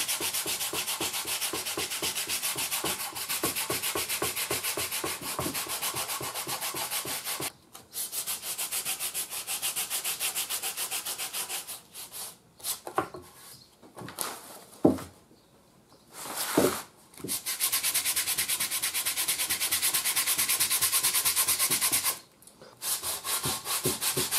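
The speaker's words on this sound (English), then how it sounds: "I'm going to sand it a little bit before I put the second coat." Sandpaper rubs with steady back-and-forth strokes over the hardened coat on a homemade radio, close and continuous, broken by a few short pauses and scraping gaps.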